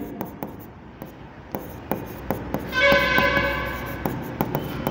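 Chalk or a marker taps and scratches across a board in short irregular strokes, while a train horn sounds partway through in the background.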